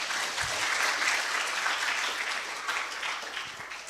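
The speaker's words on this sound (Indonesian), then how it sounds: "Tepuk tangan dong." An audience at an energy policy talk bursts into applause, a dense continuous clatter of clapping that holds steady throughout, moderately loud and unaccompanied by speech.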